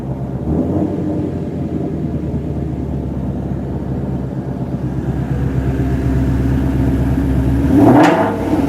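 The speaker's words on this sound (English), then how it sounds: "When I rev it, you guys will see it move." Shelby GT350 engine in sport mode, a steady loud idle drone that builds, then a sharp rev rising and falling near the end, with no talking.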